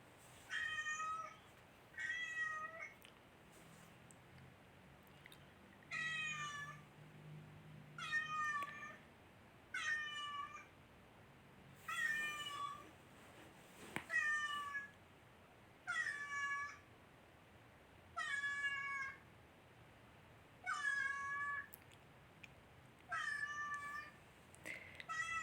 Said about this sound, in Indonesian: Begitu juga variasi suara mengeongnya juga cukup banyak.